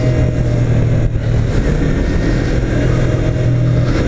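A Yamaha R3 motorcycle engine drones loudly and steadily while riding on the Interlagos race track, heard close as if from onboard, with a constant roar throughout.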